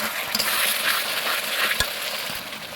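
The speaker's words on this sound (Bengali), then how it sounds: "দুই চামচ হলুদের গুঁড়ো এখন দিয়ে দেবো স্বাদের জন্য লবণ দিয়ে এখন ভালো মতন কষিয়ে নেব আমি" Mutton sautéed in a pan with turmeric and salt gives a steady close sizzle, with occasional spatula scrapes and one soft knock, and no talking.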